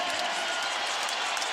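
Arena crowd applauding and cheering after the New York Liberty's 80-76 home win over the Seattle Storm in a WNBA game, a dense, steady roar of clapping and crowd noise filling the whole moment.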